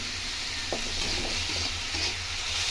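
Semolina with salt, chilli flakes and a little sugar being stirred in a pan, a soft steady sizzle with a few light scraping strokes close by.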